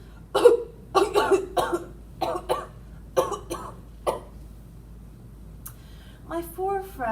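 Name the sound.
coughing fit performed in a story reading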